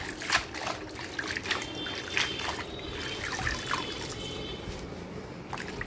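Leafy greens being washed by hand in a basin of water to rinse out sand, giving steady close trickling and gentle sloshing with small splashes and drips recurring throughout, with no talking.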